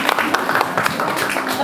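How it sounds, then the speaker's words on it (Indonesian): Students at a leadership training session give a short burst of applause in a room, loud close claps mixed with voices and chatter over the top. "Oke, kasih tepuk tangan dulu."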